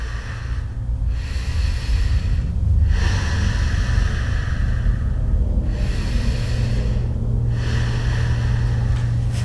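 During a yoga hamstring stretch in a class for jiu-jitsu practitioners, slow deep breaths rise and fall close to the microphone, four long exhale-inhale cycles with no talking.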